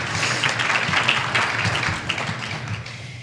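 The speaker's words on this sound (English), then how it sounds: "Yes, you can give him a round of applause." Audience applause at a Hall of Fame induction ceremony, a steady wash of many hands clapping that holds at an even level throughout, with a faint voice underneath.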